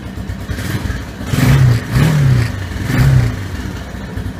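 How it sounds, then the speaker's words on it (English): A Bush Bear 150 ATV engine with a PZ27 carburetor runs close by, idling with a buzzy drone and rising in three short throttle blips before settling back. "It's a nice sounding ATV."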